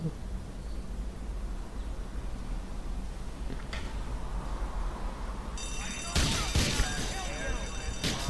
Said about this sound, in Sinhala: අපි යන පොඩ්ඩක් වෙඩි තියලා බලමුකෝ.